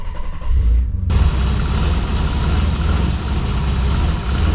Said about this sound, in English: So let's plug it back in and start the car back up again.